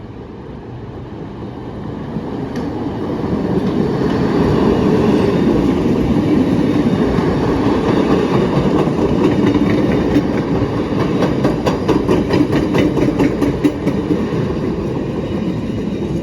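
A Chicago Brown Line elevated train rumbles past a railroad crossing, building from a low roar into a loud, steady rush with rhythmic clicking of wheels over rail joints and a faint crossing bell ringing high above.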